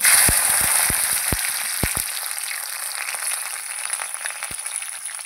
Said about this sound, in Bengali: প্রথমে ভেন্ডিটা কড়াইতে ছেড়ে দেবো